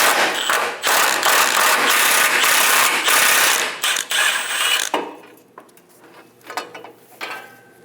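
A socket wrench ratchets off a fuel tank strap bolt under a Chevrolet Express 2500 van, rapid metallic clicking in bursts, loud and close, then stopping and leaving quieter scattered clinks and handling noises.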